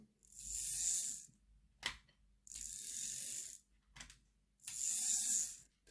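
A Hornby R2059 LNER Class A4 4-6-2 Mallard model locomotive mechanism whirs in three sustained bursts, each separated by brief clicks and pauses, heard close and alone.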